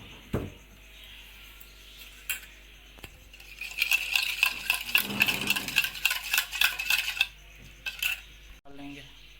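Pizza dough ingredients with cooking oil being mixed in a bowl, giving a close, busy run of scraping and clinking that builds in the middle and then stops, with a few sharp knocks around it.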